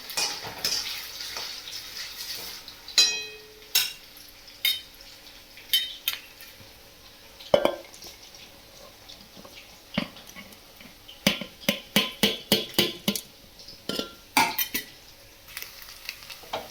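Soaked sabudana is mixed with crushed chilli and peanuts, giving soft wet stirring and scraping close up, with a quick run of sharp ticking strokes toward the end.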